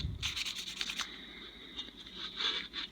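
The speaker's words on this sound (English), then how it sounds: "always wet sand and polish with your screws in place so that the heads of the screws also get the same treatment" Wet sanding a Taurus 689VR revolver to remove scratches: close, soft rubbing strokes in a quick rhythmic run, then a pause and a few more quiet scrubbing passes.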